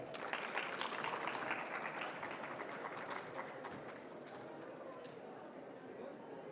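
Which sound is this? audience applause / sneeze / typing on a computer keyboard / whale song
audience applause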